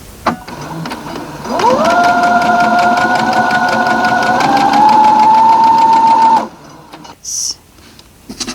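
A sewing machine stitches pieced blocks together for a Halloween-themed fat quarter quilt. The motor whirs up, runs for about five seconds in a steady, close buzzing drone with a slight pitch rise near the end, then stops. A few small handling sounds follow.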